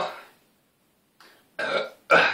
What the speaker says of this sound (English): Can't really burp that good anymore